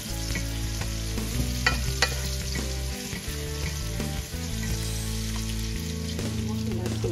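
Onions frying with salt in a pan give a continuous close sizzle and occasional stirring scrapes, set against steady background music.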